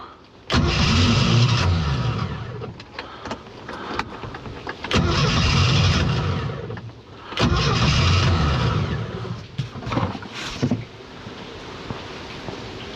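A 1976 Mercruiser 120hp boat engine cranks and fires three times in a row, each start a loud close burst of churning engine noise lasting about two seconds, with quieter rough running between attempts.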